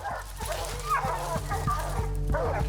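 Hunting dogs bark and yip steadily at a treed black bear in a swamp, a chorus of overlapping barks with some whimpering, fairly close and continuous with no talk.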